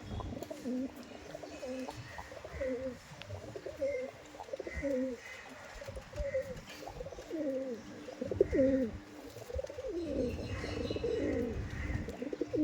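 Pigeons coo repeatedly inside a loft of Madrasi pigeons, with paired breeding birds sitting on eggs; the layered cooing is close and continuous, with some faint chirps mixed in.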